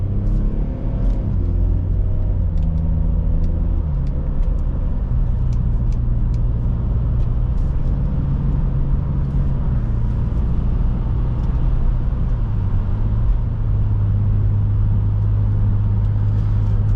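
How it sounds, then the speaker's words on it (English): A 2006 BMW X3 3.0i cruises quietly on the road, heard from inside the cabin as a continuous deep engine and tire rumble with subtle shifts in pitch as speed changes. "Let's do some more quiet driving now, and then head onto the freeway and wrap up this test drive."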